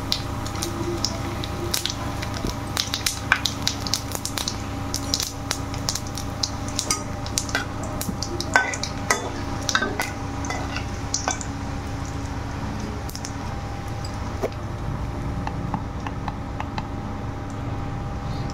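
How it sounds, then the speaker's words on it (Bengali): Asafoetida, whole cumin, bay leaf and dried chilli sizzle in hot oil, a continuous crackling hiss dotted with sharp pops and spits, close and steady with no talking. "এখন আমরা একে একে ফোড়নগুলো দিয়ে দেবো। প্রথমে দিলাম হিং, তারপর গোটা জিরে, তেজপাতা, শুকনো লঙ্কা।"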